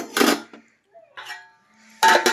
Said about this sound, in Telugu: మూత పెట్టుకొని